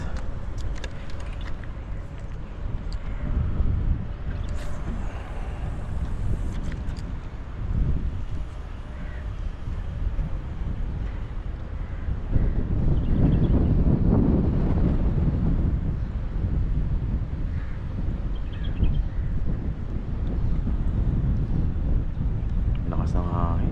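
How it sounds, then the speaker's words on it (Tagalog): Strong sea wind batters a fishing boat during a seabream catch, producing a continuous low rumble and gusty buffeting across the microphone, with voices talking over it. "Lakas ng hangin."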